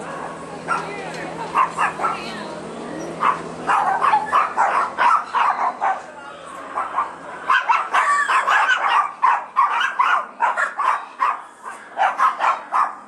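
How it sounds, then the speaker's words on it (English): Several puppies barking and yipping in rapid, high-pitched bursts, close by, with a voice talking among them. "Let's zoom in on the puppies."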